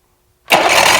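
A Mercury 850 85hp outboard motor with a carburetor problem bursts into life after silence and runs loud and close right away.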